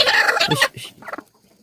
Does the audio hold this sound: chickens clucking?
yes